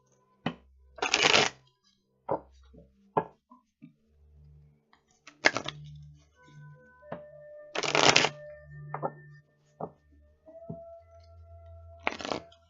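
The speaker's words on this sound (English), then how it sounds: "Felt like I needed one more shuffle." Several separate bursts of cards being shuffled and riffled, close by, with pauses and soft handling clicks between them in a quiet room.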